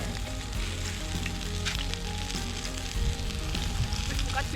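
Homemade kimchi pancake sizzling and frying steadily in a hot pan, a dense continuous crackle close by with no talking.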